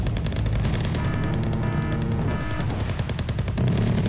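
Cannon and machine gun fire in the real-time strategy game Wargame: Red Dragon, with dense overlapping bursts and booms rattling steadily throughout as units fire together.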